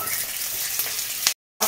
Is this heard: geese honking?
no